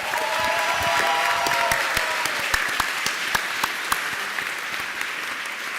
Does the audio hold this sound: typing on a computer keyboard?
no